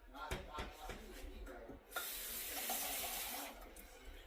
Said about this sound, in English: So we'll put a little bit more water in there